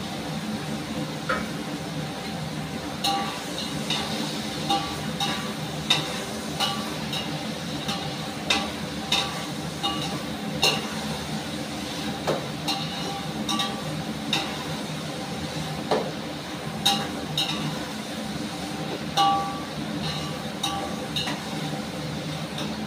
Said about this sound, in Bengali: এর মধ্যে আমি কিশমিশ আর কাজুটা দিয়ে একটু নেড়ে চেড়ে নেবো